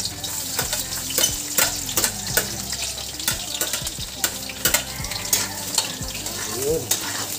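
Garlic slices sizzle and crackle in hot oil in a frying pan, a steady loud fry broken by repeated clanks and scrapes of a utensil stirring, with a faint voice at times.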